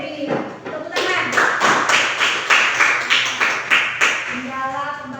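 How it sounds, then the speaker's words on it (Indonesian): Group hand clapping in an Indonesian classroom session, a short burst of rhythmic claps with some voices at the start and end. "beri tepuk tangan"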